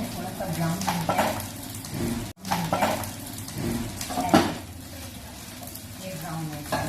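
Chicken browns in a pan for Alfredo pasta with a steady close sizzle, broken by clinks and scrapes of a utensil against the pan and a brief clatter of cookware.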